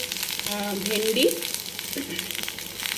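Five-spice seeds and dried red chillies sizzle and crackle in hot oil for a tamarind sour curry, steady and close, with a few faint clinks and tones in the background.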